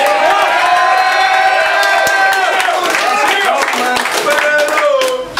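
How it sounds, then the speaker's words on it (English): A crowd at a rap battle cheers, whoops and claps loudly and close, with high shouts and whistles over dense applause. "Make some noise for Rivers!"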